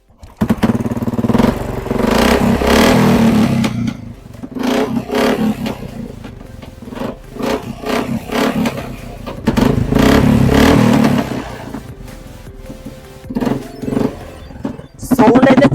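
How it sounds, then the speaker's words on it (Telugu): A Royal Enfield motorcycle fitted with a modified exhaust pipe revs loudly in repeated surges, close and heavy with a rumbling low end, the throttle bursts separated by brief dips toward idle. "ఇప్పుడైతే బైక్ స్టార్ట్ చేసి చూద్దాం."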